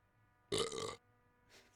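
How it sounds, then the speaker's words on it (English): A single loud burp lasting about half a second, followed by a faint trailing breathy sound against quiet background hum. "There's a burp one."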